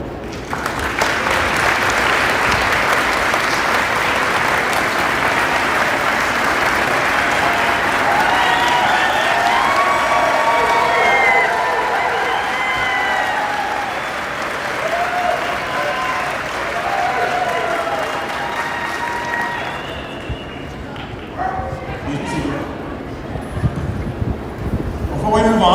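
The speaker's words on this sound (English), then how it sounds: "I would like you to please give these very special people a round of applause." Large crowd applauding at a recruit class graduation ceremony, a loud continuous roar of clapping that holds for about twenty seconds before thinning out near the end, with voices and a few cheers mixed in.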